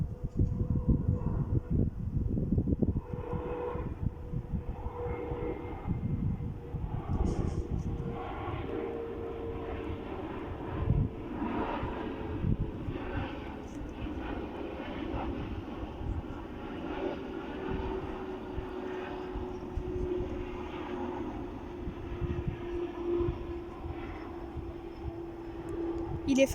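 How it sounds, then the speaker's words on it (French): A Hop CRJ regional jet for Air France flying over on approach to land near a church in Eysines, a loud steady engine roar with a slowly falling whine that sustains throughout. "C'est un avion fin, un CRJ Hop."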